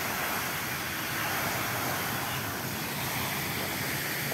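Steady rushing water from a park fountain in Hong Kong while an orange is washed under it, a constant broadband splash close by with no break.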